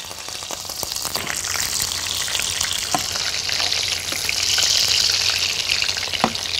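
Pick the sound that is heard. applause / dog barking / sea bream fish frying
sea bream fish frying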